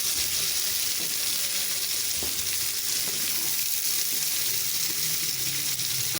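Half a kilo of onions fry in hot oil until light brown, a steady, dense sizzle that continues without a break and carries faint stirring clicks.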